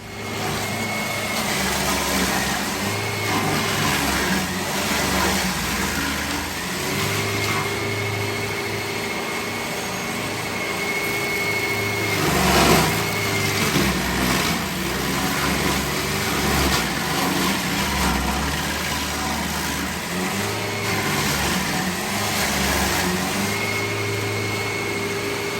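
A rented stump grinder runs steadily outdoors, a loud continuous engine drone with a high whine that rises and dips as it bites in, holding for the whole stretch without speech.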